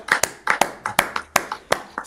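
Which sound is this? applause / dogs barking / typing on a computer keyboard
applause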